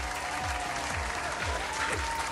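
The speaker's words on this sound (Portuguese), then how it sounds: "Palmas para Carla." Steady audience applause on a Brazilian Christmas and New Year TV variety show, a dense, continuous wash of clapping heard alone at fairly close range with a faint tonal hum beneath and a few low thumps.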